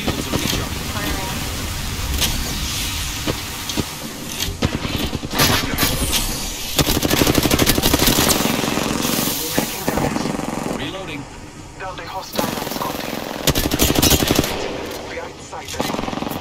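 Weapon fire in Apex Legends rattles in rapid automatic bursts, loud and close, broken by short pauses and layered with game effects, while a voice talks over the shooting.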